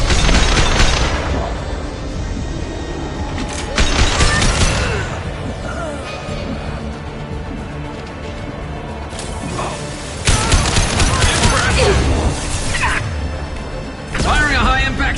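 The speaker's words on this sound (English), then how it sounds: "Firing a high-impact shot." Heavy high-impact gunshots from the video game Mass Effect 2 fire in loud bursts about four seconds apart, each a booming crack with a ringing tail, against game ambience and background voices.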